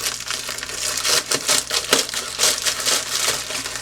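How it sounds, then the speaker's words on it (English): Scissors slice open a package, giving a steady stretch of crisp, crinkling cuts and rustling plastic or cardboard, close and fairly loud with no voice over it. "So instead of unboxing, I'm going to cut it open"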